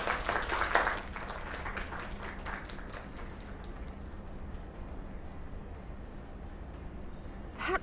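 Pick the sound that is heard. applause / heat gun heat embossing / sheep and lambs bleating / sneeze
applause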